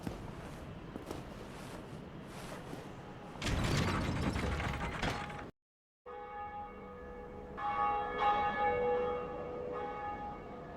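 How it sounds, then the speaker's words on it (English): A church-style bell rings out in Dark Souls Remastered, the first bell of awakening struck atop a bell tower, with mechanical clanking and ratcheting before a brief silence, then sustained resonant ringing tones that swell and linger. "I climbed the bell tower and rang the first bell of awakening"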